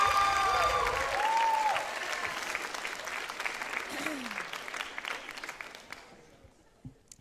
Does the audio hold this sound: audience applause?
yes